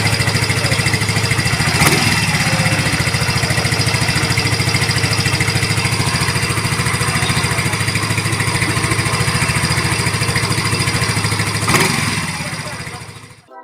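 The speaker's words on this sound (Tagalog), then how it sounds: "gumanda na ang RPM ng ating motor pagkatapos natin mapalitan ng bagong o-ring ng fuel injector" A Yamaha Mio i 125 scooter engine with a new fuel injector O-ring idles close by with a steady, buzzing putter, running continuously at an even pace before cutting off abruptly at the end.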